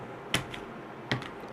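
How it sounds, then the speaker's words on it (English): Tiles from the Catan Explorers and Pirates board game clack as they are shuffled, giving two sharp, close clicks about a second apart with a few softer ticks after each, in a quiet room. "So what you're going to do is shuffle these up really good."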